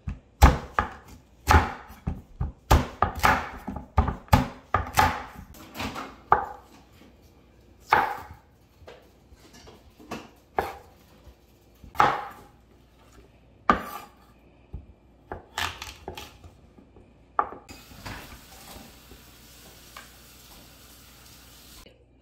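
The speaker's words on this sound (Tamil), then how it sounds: "மரவள்ளி கிழங்கு எடுத்து வட்டி கண்டு வெட்ட போகிறோம்" A knife cuts cassava into round slices on a board, giving a series of crisp, uneven chops with short pauses between them, close and alone, followed by a quiet stretch of background noise.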